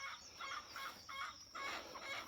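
Chickens call in a run near a small house, giving a series of short repeated clucking and crowing bursts at moderate distance, with faint background noise between them.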